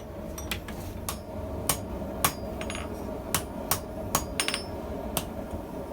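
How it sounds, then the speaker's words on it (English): Sharp metallic hammer blows ring out about a dozen times at an uneven pace, over a steady low background hum. "I probably shouldn't have started hammering on it"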